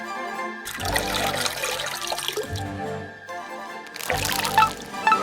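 Water gushing and pouring in a LEGO water park lazy river with a working water pump, loud splashing bursts that stop and restart, with a brief quieter gap between pours.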